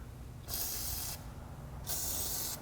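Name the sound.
spraying penetrating oil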